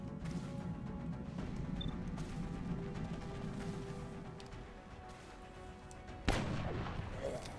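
A weapon blast in the turn-based strategy game XCOM Long War: one sharp, loud report near the end that cuts through a steady, dense bed of game noise and ambience.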